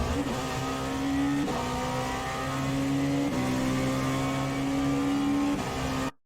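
A Dallara P217 LMP2 prototype race car in iRacing at the Red Bull Ring accelerates hard, its engine note climbing steadily through gear after gear with sharp drops at each upshift, loud and close, with no voices.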